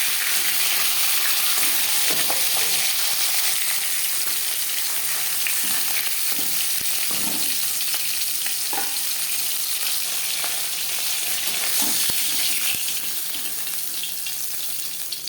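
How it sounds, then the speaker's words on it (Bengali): Hilsa fish head frying crisp in hot oil, a dense steady crackling sizzle lasting throughout, with occasional soft utensil taps. "মাছের মাথা আমি একটু কড়া করেই ভাজলাম"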